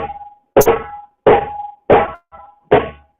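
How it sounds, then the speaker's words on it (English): Djembe bass strokes struck at the centre of the drumhead: five separate deep, thudding hits spaced roughly half a second apart, each decaying quickly, heard alone and close up. "if you hit at the center of the instrument, it's the base of the instrument, which is like this."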